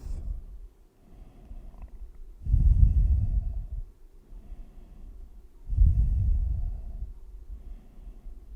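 Slow, deep breathing during a city yoga session, two long, soft, low exhalations several seconds apart, close to the microphone and otherwise quiet.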